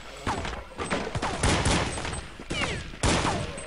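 Gunfire in a Counter-Strike esports match, with Glock pistol shots traded against a Colt rifle at about 30 metres: a rapid series of sharp cracks and bursts, some with ringing tails, loud and close.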